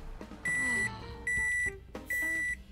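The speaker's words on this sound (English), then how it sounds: "oatmeal and she put it into the microwave." A microwave oven heating oatmeal in The Sims gives three loud electronic beeps, each holding steady for about half a second, separated by short pauses and faint kitchen clatter.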